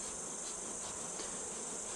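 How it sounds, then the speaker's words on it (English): Honey bees swarm and buzz around a Flow Frame hive, a steady, dense, close drone that holds even throughout with no voices over it. "just get the bees out of the way of where we're going to be scraping some wax off"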